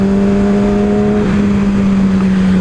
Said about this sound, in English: Yeah, there is a car.